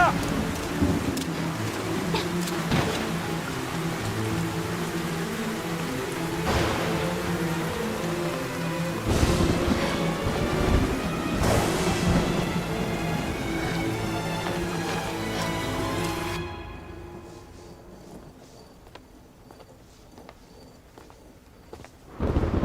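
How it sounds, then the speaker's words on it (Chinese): Heavy rain and wind pour steadily with occasional thunderous surges under a tonal background, then the storm noise thins out near the end. "风大雨大"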